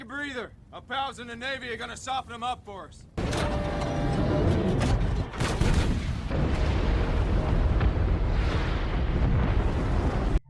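Artillery bombardment in a war film set in the Battle of Okinawa between Japanese and American troops: a sudden, loud, sustained roar of heavy explosions and rumbling fire that fills the scene, preceded by a brief stretch of voices.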